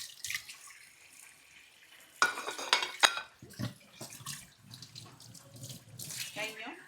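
Running tap water splashes over dishes, with clinks and knocks of pots being handled amid intermittent bursts of spray.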